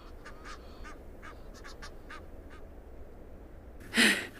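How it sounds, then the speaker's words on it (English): Wild geese or ducks squabble in a territorial tiff on safari, giving a string of distant honks and quacks that ends in one loud, close, harsh call. "Such noisy birds."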